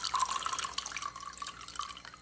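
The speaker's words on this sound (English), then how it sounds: "I'm going to very gently pour it right through into my glass," Cardamom tea poured gently through a small strainer into a glass, a steady trickling, dripping stream close by with no talk.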